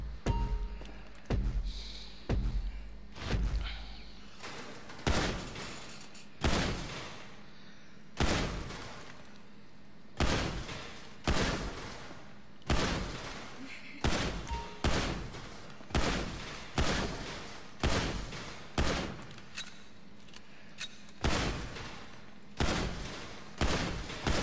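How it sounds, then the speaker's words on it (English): Combat pistol fire from GTA 5 rings out in steady, evenly spaced single shots, each a loud crack with a short decaying tail, repeating about twenty times. "Combat pistol."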